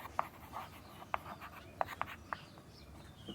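Chalk tapping and scraping on a classroom board during a coordinate geometry lesson, a handful of sharp taps at an irregular pace, fairly faint and close, with no talk.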